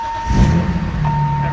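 A 1991 BMW E30 M3 fuel pump primes with a steady electric hum and a thin, constant whine, lasting about a second and a half under low garage rumble.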